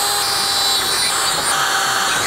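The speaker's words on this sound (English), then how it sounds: "I'm gonna drill holes here and here," Loud, close power drill fitted with a cobalt bit bores through a mask, a continuous high-pitched whine with grinding bite throughout, no voices.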